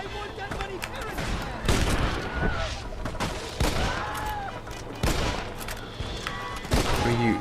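Gunfire from the Red Dead Redemption video game: a run of sharp shots and rapid bursts cracks out over several seconds amid game effects and background music, with a person talking intermittently.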